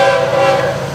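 FEC freight train 202 on the Florida East Coast main line sounds a loud, steady, close horn blast that fills the whole moment, with no voices.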